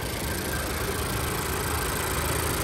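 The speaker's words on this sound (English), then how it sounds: "let me pop the hood for you guys and let you listen to the engine" A 2016 Honda Civic EX-L idling with the hood open, a steady close engine hum with even texture and no voices over it.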